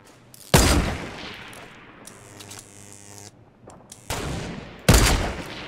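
Loud sniper rifle shots in the Fortnite Battle Royale video game, with three sharp, booming reports spaced a couple of seconds apart and fainter game sounds between them.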